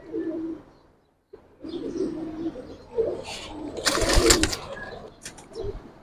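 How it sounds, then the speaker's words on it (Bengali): Giribaz pigeons, including a full silver bird, coo nearby in a loft, low throaty calls under a brief burst of wing flapping and rustling, fairly close and clear. "ফুল সিলভার কবুতর।"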